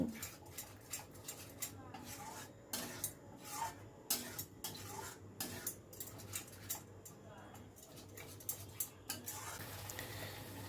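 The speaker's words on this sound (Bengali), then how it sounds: "এবার আমি কাজু বাদাম আর তিলটাকে যে গ্রাইন্ড করে রেখেছিলাম সেটা দিয়ে দিলাম। দিয়ে সব কিছু আবারও ভালো করে মিশিয়ে নিচ্ছি।" Cabbage masala being stirred in a pan with ground cashew and sesame, giving repeated scraping and rubbing strokes of a utensil against the pan in a steady rhythm, moderately close.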